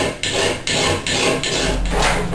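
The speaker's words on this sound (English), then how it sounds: "You want to file on top of the spine until you can feel that the edge is at a sharp right angle" A metal file rasps along the spine of a machete blade clamped in a vise, giving four or five long, even strokes in a steady back-and-forth rhythm, close and loud.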